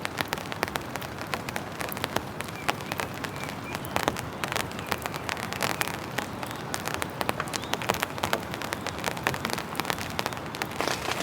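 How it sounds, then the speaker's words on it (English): Steady rain drumming on a tent in the mountains, a dense continuous patter of close drops throughout with no talk. "Just listen to that rain up in the mountains"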